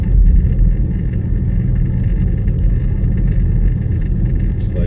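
Steady low engine and road rumble from inside a car driving through Myślenice at night, continuous and fairly loud throughout, with a faint high chirp near the end.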